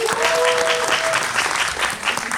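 A screening audience applauds at a post-film Q&A for the Korean film Dolphin: a dense, loud, steady wash of many hands clapping, with a faint voice briefly audible near the start.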